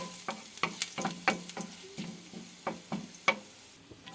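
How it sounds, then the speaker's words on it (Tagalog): Garlic sautéing in a pan for a ground-meat omelette, with a steady sizzle cut by repeated scraping and stirring strokes from a utensil, close and moderately loud, no voices. "Yan, magkikisa tayo ng bawang."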